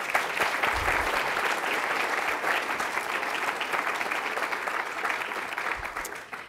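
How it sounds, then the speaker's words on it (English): A sustained round of audience applause at a Churchill Club business talk, dense and even clapping from a sizable crowd that holds steady for several seconds before tapering off. "One more round of applause, please."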